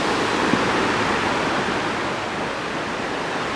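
Steady, loud rushing of a waterfall and fast water beside a trail, a dense continuous roar filling the whole stretch with no voices.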